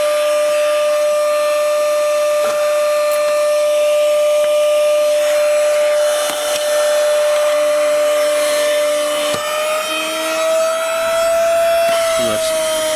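A DSPIAE hand-held cordless vacuum running with a steady, high-pitched motor whine and airy rush, the tone shifting slightly near the end as it is handled close by, with some talking over it.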